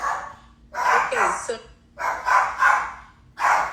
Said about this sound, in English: Oh my God, my dogs. Be quiet. Be quiet.